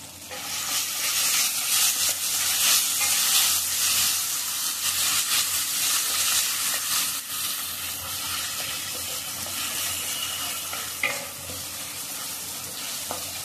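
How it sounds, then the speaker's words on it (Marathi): Ginger garlic paste hitting a hot pan gives a loud, continuous, close sizzle and hiss with steady frying crackle and occasional stirring, without any talk. "त्याच्यामध्ये टाकूया आलं लसूणची पेस्ट."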